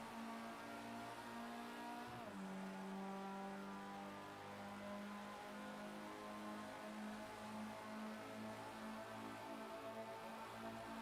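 Formula Rookie race cars in Project CARS 2 at the Indianapolis GP circuit, a steady loud engine drone with a sharp pitch shift as one car shifts or passes, then sustained high revving throughout.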